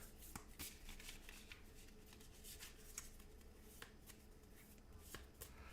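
A deck of cards for a close-quarter Waterloo wargame is shuffled at close range, giving a steady riffling flutter with sharp little snaps and slaps throughout, no voices.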